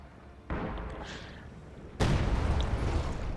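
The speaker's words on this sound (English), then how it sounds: "So now they're bombarding me, apparently" Artillery shells land in the Company of Heroes 2 strategy game, two heavy booming impacts about a second and a half apart, each a sharp, loud blast trailing into rumbling debris, with no voices.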